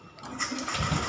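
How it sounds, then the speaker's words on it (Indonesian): A Honda Beat scooter that had been stalling is started after its spark plug is refitted; the engine catches quickly and settles into a close, rising idle. "coba kita hidupkan motornya"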